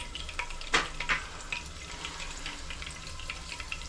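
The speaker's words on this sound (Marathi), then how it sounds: "मिरच्या थोड्या भाजल्यानंतर" Green chilies roasting in a hot pan for Kolhapuri chicken pandhara rassa, a steady close sizzle and crackle with a few sharper pops near the start.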